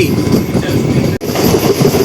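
A MEMU passenger train on the Rajahmundry to Bhimavaram line rumbles steadily with wheel clatter, loud and close from inside the coach, broken by a brief sharp dropout partway through.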